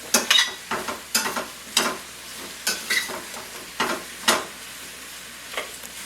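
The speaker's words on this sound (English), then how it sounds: "I hope you can hear it sizzling" Beets and onions sizzle in olive oil and butter in a pan, a steady frying hiss broken by repeated stirring scrapes about every half second to second, close and fairly loud with no talk.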